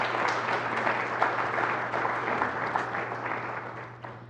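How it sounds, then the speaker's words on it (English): Applause at a graduation celebration and awards ceremony, a moderate, steady crowd clapping over a low hum, fading slightly toward the end. "All right, so a little applause for Dan."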